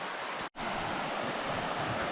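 A river rushing through the Carpathian mountains, a steady broadband roar of flowing water, close and continuous, with one brief dropout partway through.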